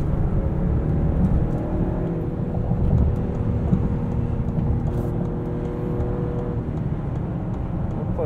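A 2020 Lincoln Aviator Reserve AWD drives along, its steady low cabin drone of road and engine noise holding even throughout, with no voices.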